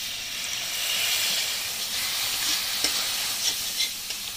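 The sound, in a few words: spice masala frying and being stirred with a little water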